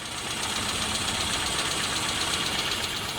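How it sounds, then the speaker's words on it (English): A classic car's engine idles with a freshly rebuilt, newly tuned carburettor, a close, steady, even rumble with a light knocking pulse and no talk over it. "So that's idling, all finished now."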